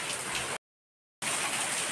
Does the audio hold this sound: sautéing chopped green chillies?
no